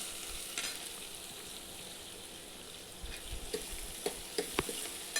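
Onion sautéing in a pan for misal pav, a steady soft sizzle with occasional stirring scrapes and clicks growing more frequent toward the end, no voices.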